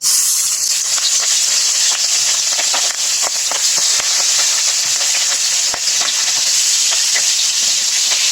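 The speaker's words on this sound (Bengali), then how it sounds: "মাছ দিয়ে আমি ভেজে নিই" Loud, constant sizzling of rohu fish frying in hot oil, with scattered crackles and pops over a steady hiss.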